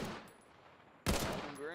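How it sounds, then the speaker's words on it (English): A 9mm carbine in the World War II shooter Battalion 1944 fires a sharp, loud burst after a quieter lead-in, its crack followed by a ringing tail. "Okay, now let's try the carbine. More carbine. 9mm shooting."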